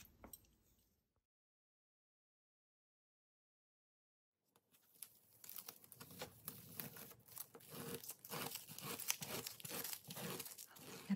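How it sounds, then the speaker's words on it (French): Masking tape being peeled off a painted surface, with a long run of dense crackling, ripping tears close by after a short quiet start. "Je vais enlever tout le masking tape."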